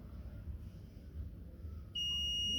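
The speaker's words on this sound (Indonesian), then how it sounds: "Ketika dia bunyi artinya konslet atau ngeground ya" A multimeter continuity beep sounds when the probes find a short circuit on a dead Samsung J2 Prime phone board, a sudden steady high-pitched tone starting late and holding to the end over a quiet background hum.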